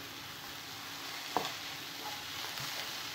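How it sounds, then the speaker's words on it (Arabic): Bacon lardons frying with onions in a pan for tartiflette give a steady soft sizzle, with a single brief scrape of stirring near the middle and no talking. "ندبلهم غير شويه مع البصل لي لاردينات تاعنا"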